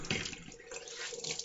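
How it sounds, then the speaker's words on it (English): Tap water running steadily into a sink for a cold water face rinse after shaving, a close, continuous splashing flow. "Cold water rinse."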